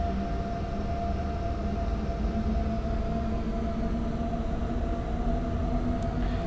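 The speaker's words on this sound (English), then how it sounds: "There's another 185 with a container train." A DB class 185 locomotive hauling a container train passes in a train simulator, a steady rumbling drone with sustained tonal hum, constant and moderately loud throughout.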